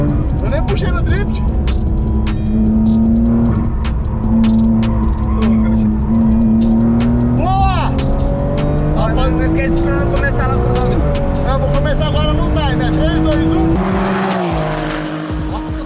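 A Porsche 911 accelerating hard on a race track, its loud engine climbing steadily in pitch with tire squeal, heard close up under continuous talk from people inside.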